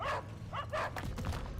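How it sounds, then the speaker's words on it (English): A haggard dog in the tabletop fantasy game Tabletop Tavern lets out several quick, rough barks and yips in short bursts, fairly close and alone with no talk over it. "I love the haggard dog barking sounds"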